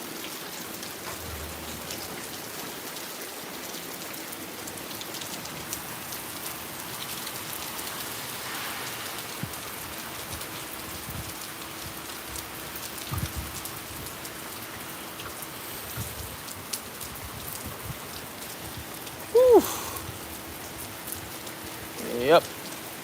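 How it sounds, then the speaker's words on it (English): A tropical thunderstorm downpour: steady rain hisses and patters on surfaces for the whole stretch, with a low constant hum beneath and a couple of brief louder knocks near the end, no voices. "this downpour that just passed over us may actually become electrical in a few moments"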